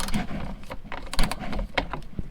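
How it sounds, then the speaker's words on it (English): Ratchet with an 8mm socket backing out bolts from the lower rear inner fender of a 2018 Jeep JL, a close, busy run of quick metallic clicks with light mechanical rattling, no voices. "remove this lower inner fender on the rear of the Jeep using 8mm socket"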